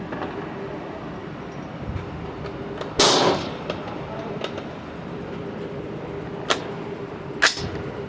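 Three rifle rounds fired at a 100-yard target, each a sharp crack spaced a few seconds apart, the first loudest with a brief tail, heard against a steady outdoor background hiss.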